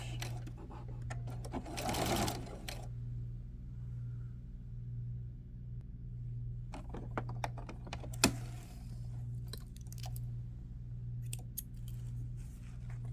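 A domestic sewing machine stitches bias tape at a neckline opening, its steady mechanical hum running throughout with a brief louder burst early on and a few clicks and handling noises later.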